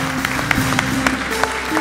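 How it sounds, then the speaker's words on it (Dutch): Audience applause at a late-night tech talk show, a continuous patter of clapping with a few sharper claps standing out over a steady hum. "Dus nog even een hartelijk applaus voor de mensen van Kennisnet"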